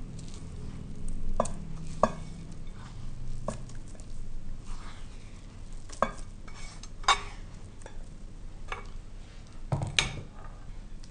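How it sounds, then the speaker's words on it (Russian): Carrot casserole mixture with milk being stirred in a bowl, a steady soft scraping and sloshing broken by sharper clinks of the utensil against the bowl. "И еще раз все хорошо перемешиваем."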